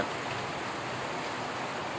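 Rain pouring at Nagapuram, a dense, steady hiss of falling water with no break or other sounds.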